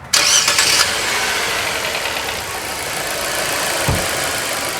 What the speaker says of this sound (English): Now let the engine run for a little bit